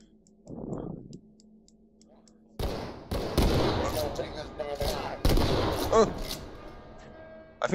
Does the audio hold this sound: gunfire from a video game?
yes